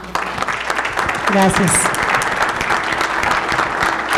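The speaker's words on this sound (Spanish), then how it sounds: "Le damos un aplauso a Jorge" An audience applauds Jorge at a recognition ceremony in a hall, steady, fairly loud clapping throughout, with a brief spoken thanks and a short whistle-like tone cutting through partway.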